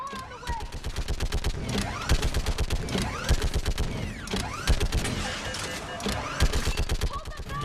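Rapid bursts of gunfire ring out while shooting enemies in the video game Mass Effect 3: dense, sharp, repeated shots in quick volleys over a busy mechanical clatter, continuous from start to finish.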